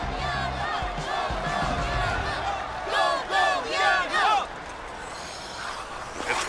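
Huge crowd cheering at an ice hockey game between two rivals, a dense roar of many voices with swelling whoops and shouts around the middle, then settling back to a steady background hubbub.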